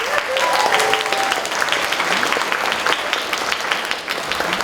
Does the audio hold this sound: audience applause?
yes